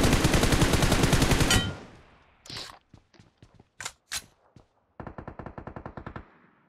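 Automatic gunfire in PUBG Mobile, a loud rapid burst at close range, then scattered single shots and footsteps, and a second sharper burst of rapid fire.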